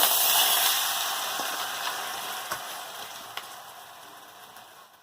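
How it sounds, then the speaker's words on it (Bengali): Washed khesari greens drop into a hot pan and fry with a steady broadband sizzle that is loudest at the start and slowly fades, with a few soft stirring ticks and no talk. "ধুয়ে রাখা কড়াই শাকটা দিয়ে দেবো।"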